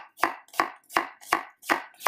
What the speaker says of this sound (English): So I'm chopping an onion here.